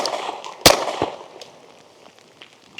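A Stribog SP45A3 .45 ACP fitted with a muzzle brake fires one sharp, loud shot, followed by a fainter second crack. Echo and room noise trail off after the shots.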